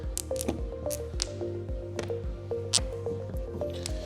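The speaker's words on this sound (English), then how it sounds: "Start center out, overlapping squeegee strokes." Squeegee strokes press air out of color paint protection film on a car hood, producing close, wet squishing and squeaking sounds in an overlapping rhythm, with no talking.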